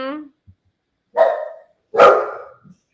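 Excited dogs give a few loud, separate barks close by, with short gaps of silence between them.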